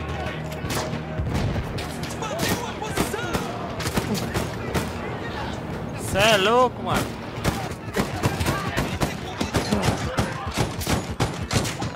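Repeated close gunshots and volleys in a Battlefield 1 World War I firefight, crackling in irregular bursts throughout, mixed with booms and shouted, excited talk between players.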